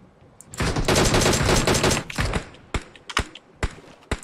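Mini 14 rifle fire in a battle royale video game: a dense, loud burst of rapid shots for about two seconds, then several separate single cracks spaced out over the remaining seconds.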